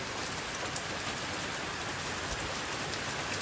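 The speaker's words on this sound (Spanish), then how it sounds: "de la lluvia y su sonido." Steady rain falls in the mountainous zone of Yauco, a dense, even hiss of drops on surfaces that holds constant and fairly quiet throughout, with no voices.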